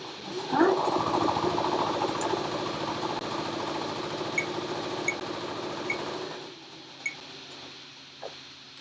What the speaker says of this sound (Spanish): Y lo vamos a coser con una puntada recta.